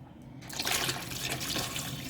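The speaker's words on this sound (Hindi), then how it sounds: "अब इसके अंदर मैं पानी ऐड करूँगी" Water poured into a pot of beef frying with garlic and ginger for biryani: after a brief quiet moment, a sudden hissing, bubbling splash rises and continues as a steady close sizzle and gurgle, with no talking.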